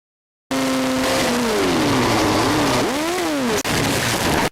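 Race cars in an auto race roar past at close range, engines revving with rising and falling pitch as they sweep by, loud and continuous with a brief dip before a second car blasts through.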